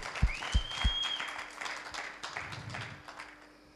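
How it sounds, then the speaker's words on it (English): Wedding guests clap their hands at a ceremony, opening with three sharp claps that give way to a quieter spread of applause, with faint voices in the background. "Clap your hand."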